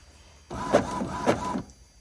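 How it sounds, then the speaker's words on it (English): A home printer prints slowly, one short whirring run of about a second with a couple of sharp clicks, near and moderately quiet, set between stretches of near silence. "It's printing."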